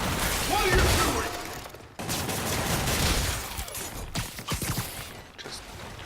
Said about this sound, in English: Just shooting them so they can't shoot and shooting back